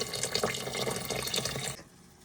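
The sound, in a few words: water being poured while cooking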